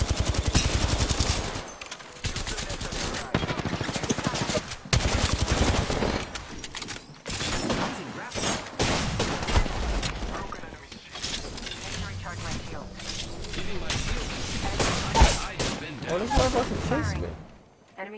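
Rapid bursts of automatic gunfire in the battle royale game Apex Legends crackle in loud, repeated volleys with short gaps between them, while people talk over the shooting.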